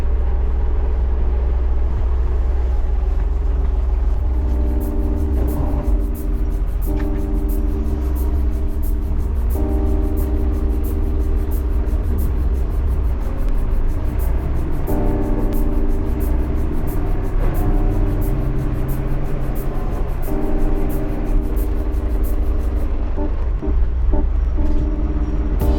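A tractor engine runs steadily while the tractor is driven around a farm, giving a loud, continuous low rumble with a constant mechanical drone and no speech over it.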